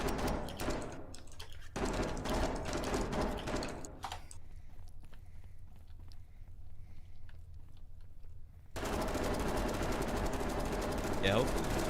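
Gunfire in the video game SCP: Pandemic: dense bursts of rapid shots crackle through the first seconds, ease into a quieter stretch of distant pops, then give way to a loud, noisy wash near the end.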